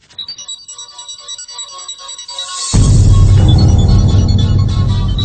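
A mobile phone ringtone plays as a bright, repeating electronic melody, loud and alone. Partway through, a louder, fuller musical passage swells in beneath it.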